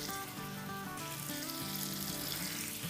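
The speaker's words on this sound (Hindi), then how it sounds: "2 मिनट इसे फ्राई करेंगे" Qureshi kababs frying in butter give a steady, close sizzle that runs without a break, with a faint tonal hum in the background and no talking.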